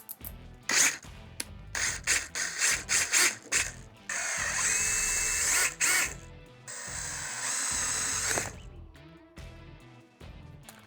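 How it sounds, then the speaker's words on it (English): A power drill with a 17/64 bit bores seat bolt holes during assembly of a Rascal Lite mini bike kit. It comes in several loud, close bursts and then sustained grinding stretches, with short pauses between runs. "we have a 17/64 drill bit we're gonna be drilling the holes with"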